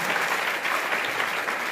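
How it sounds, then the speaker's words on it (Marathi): Audience at a school farewell ceremony at Vidyaniketan High School, Yermala, claps steadily and densely throughout, a continuous even wash of applause with no talk. "त्या पाटील सरांसाठी एकदा जोरदार टाळ्या वाजवा"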